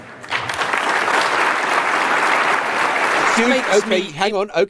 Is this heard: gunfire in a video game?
no